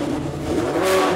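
A Lamborghini V10 engine revving, a loud, close, steady roar that climbs slightly in pitch toward the end of the short burst.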